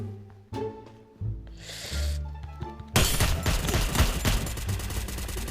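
Gunfire in the video game Free Fire: scattered single shots and a shattering crash, then a dense, loud burst of rapid automatic fire that continues to the end.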